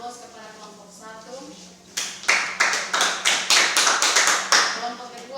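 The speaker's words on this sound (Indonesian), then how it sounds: "berikan aplaus kepada kelompok 1" A classroom group claps for the presenting group, a loud burst of many hands that starts suddenly and keeps a steady, rapid rhythm, following a few seconds of talk.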